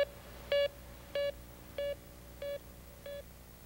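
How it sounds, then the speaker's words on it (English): Electronic refrigerant leak detector used on an automotive air conditioning system, giving five evenly spaced short beeps about every 0.65 seconds, clear and close with no talk. "If refrigerant is present, it will trigger the tester circuitry to make the sound change in tone or frequency."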